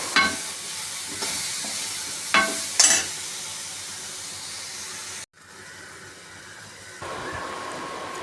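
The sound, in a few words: frying cut banana pieces in ghee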